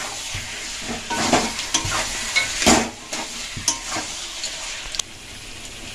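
Chicken pieces sizzle and fry in a hot pan for a Kashmiri-style chicken kanti, with steady crackling broken by repeated scraping stir strokes, close and fairly loud with no talking.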